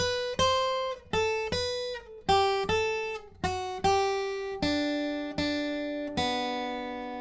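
The electric guitar riff of a song plays alone: a series of sharply struck chords and notes, each ringing and decaying before the next, ending on a sustained open string.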